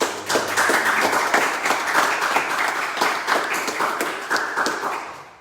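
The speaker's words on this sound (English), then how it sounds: "So give them a round of applause." Audience applause at a public school education awards ceremony, a steady crowd of clapping hands that runs continuously and fades slightly toward the end, with no talking over it.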